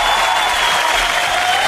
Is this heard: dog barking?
no